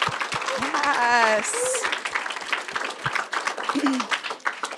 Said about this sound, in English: Can we just give a big applause for Hooray for Trees, the new superhero?